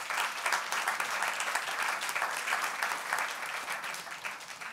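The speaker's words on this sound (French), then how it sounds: "Applaudissez-le." Steady applause from an audience at a business leaders' conference fills the whole stretch, dense and even, at moderate level with no voices on top.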